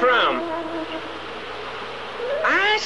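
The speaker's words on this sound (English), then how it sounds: "Where'd all these flies come from?" Cartoon flies swarm over a stream in a buzzing burst, with sweeping, warbling tones at the start and end and a quieter hum between.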